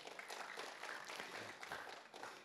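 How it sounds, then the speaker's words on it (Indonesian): A church congregation applauds, a faint, distant wash of steady clapping that carries on evenly for a couple of seconds. "Tepuk tangan Bapak Saudara."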